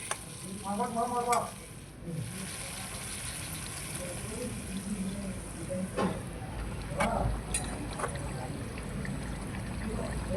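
Spices fry in a pan, with a soft steady sizzle under repeated stirring scrapes. The cooking is quiet and close, and a voice speaks briefly near the start.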